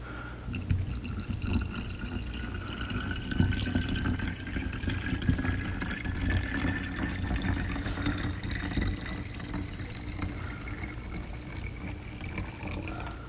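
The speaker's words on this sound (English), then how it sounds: "We're going to add this water right into the jug here." About 300 milliliters of water pours steadily into a CO2 kit jug for several seconds, a continuous splashing fill that slowly rises in pitch as the vessel fills.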